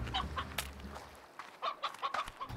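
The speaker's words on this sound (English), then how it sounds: "I certainly don't feed live chickens to giant cat things." Chickens in the video game Slime Rancher cluck in quick, close bursts over a low hum that cuts off partway through.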